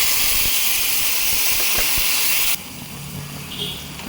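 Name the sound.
adding semolina and hot water to a hot pan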